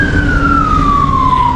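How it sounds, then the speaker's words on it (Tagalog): A siren wails steadily with its pitch gliding slowly downward, loud and continuous over low traffic rumble, an ambulance passing through a busy street in Salmiya. "Ambulansya."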